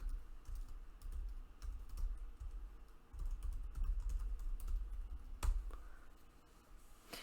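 Typing on a computer keyboard while entering an Apple ID and password, a steady run of close, light key clicks with small pauses and one sharper tap near the end, no voices.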